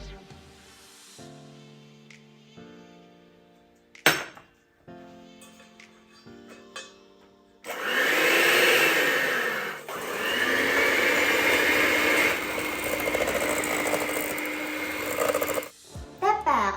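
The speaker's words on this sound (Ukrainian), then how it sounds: "міксером. Збиваємо цукор та жовтки." An electric hand mixer beats sugar and egg yolks for peach-shaped cakes, a loud, steady whirring drone that starts partway through and runs continuously for several seconds after some quieter clinking and talk.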